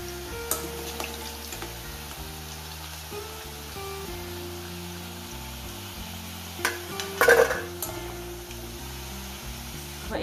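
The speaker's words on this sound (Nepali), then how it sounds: "यसरी नै म रहेको अरू आलु पनि फ्राई गर्छु" Potatoes for spicy dum aloo fry in a pan with a soft, steady sizzle under background music, broken by a few louder clattering stirs near the end.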